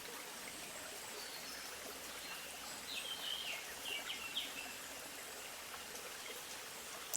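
A small stream trickles steadily near a quiet village, a soft continuous wash of running water with faint bird calls briefly rising above it midway.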